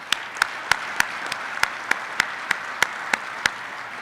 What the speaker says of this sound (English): Round of applause for the family that supports.